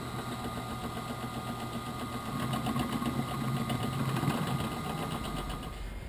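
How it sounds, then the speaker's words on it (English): Steady machine whir from a drill running a center drill to start holes in metal for a sway bar mount, a continuous motor hum with a slight rise in the middle, heard alone without talk. "Now we're gonna use a center drill just to start the holes off."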